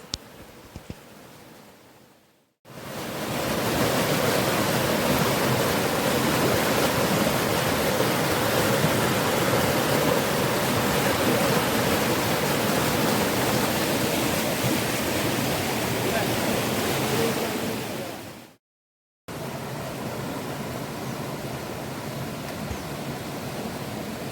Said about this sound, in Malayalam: ആറ്റുവഞ്ഞിപ്പൂക്കളെയും മനോഹരമായ കല്ലുകളെയും തഴുകി ഒഴുകുന്ന പുഴ